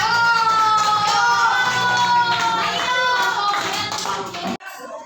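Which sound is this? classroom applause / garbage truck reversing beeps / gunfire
classroom applause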